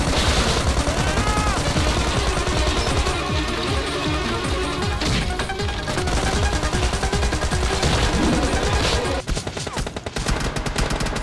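Dense, continuous gunfire in the game PUBG Lite, with rapid automatic bursts and scattered single shots, loud and close throughout, over a layer of game action noise.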